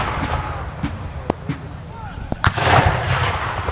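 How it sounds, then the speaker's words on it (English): Civil War reenactment artillery, bronze 6-pounder and Napoleon cannons, booming outdoors in a few sharp distant reports spread across several seconds, with crowd noise and talk in the background. "We have a variety of artillery pieces out there too."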